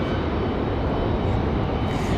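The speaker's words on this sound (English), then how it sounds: "Air France getting a move on already. That 787 Dreamliner." An Air France Boeing 787 Dreamliner jet moves at Raleigh-Durham airport, its engines a steady, broad roar heard from some distance without a break.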